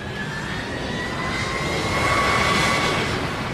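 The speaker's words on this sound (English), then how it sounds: "He pushed the throttles up." Boeing 757 jet engines spool up as the airliner begins its takeoff roll, a steady broad roar with rising whine tones, loud and continuous throughout.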